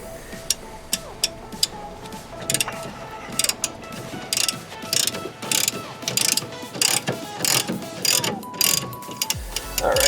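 Ratchet handle being cranked on a ball joint press clamp during a front upper and lower ball joint replacement, a series of close, sharp metallic clicks in uneven bursts with brief pauses.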